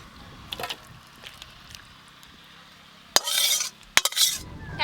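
A curry of potato and khoira fish is poured and scraped out of a pan with a utensil. Quiet clinks come first, then two louder bursts of scraping and pouring near the end, with no talk.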